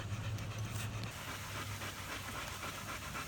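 Dogs panting rapidly and steadily after a four-mile walk, close and continuous, with a low droning hum running underneath.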